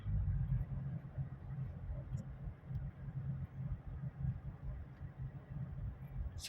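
Low engine and road rumble inside a Tank 300 SUV on a test drive, a steady muffled drone throughout with no talking.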